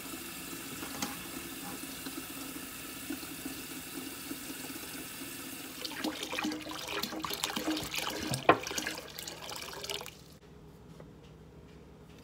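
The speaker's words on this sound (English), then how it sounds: "now that I got my 4 gallons of water in my bucket" Tap water running into a bucket, filling 4 gallons, as a steady close stream that turns choppy and splashy with a few knocks before stopping near the end.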